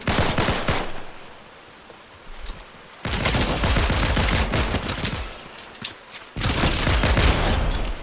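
Automatic gunfire from an AI enemy in a video game rattles in loud, dense bursts, one long burst, a short lull with scattered shots, then two more sustained volleys close by.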